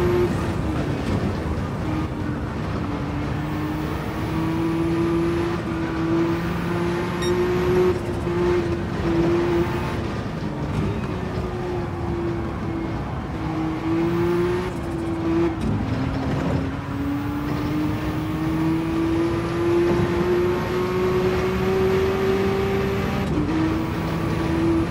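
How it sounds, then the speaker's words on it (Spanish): Porsche 912 flat-six engine racing in the Gran Turismo 7 game, a sustained engine note rising and falling through gear changes and corners over roughly twenty-five seconds, loud and continuous. "Nos fuimos en su coche y escuchamos ese motor flat 6 del Porsche 912."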